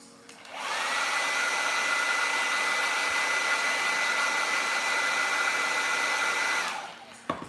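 A heat gun blows steadily on a plastic action figure joint, giving one continuous close whooshing roar of about six seconds that starts and stops cleanly, with no talk.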